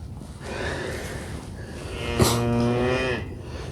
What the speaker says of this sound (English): We're not asking the cow to move fast.